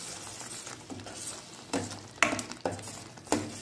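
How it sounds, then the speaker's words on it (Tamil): Ground masala powder being stirred into tamarind gravy in a pan, quiet scraping with a few sharp spoon clinks against the metal over a faint sizzle. "பவுடர் சேர்த்துட்டு நல்லா மிக்ஸ் பண்ணி"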